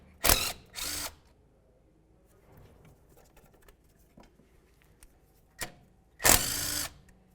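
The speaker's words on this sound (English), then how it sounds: "You're going to find one more 10mm headed bolt. Go ahead and remove that" A power tool spins a 10mm bolt off the ABS wire bracket of a 2002-2006 Honda CR-V, giving short loud whirring bursts separated by quiet pauses, with faint clicks and handling noise between them.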